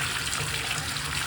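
Hot water runs steadily from a bathtub faucet after a Moen 1222 valve replacement, a constant close hiss and splash of flowing water at moderate level with no talking.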